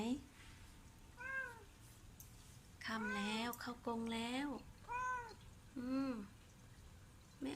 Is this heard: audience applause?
no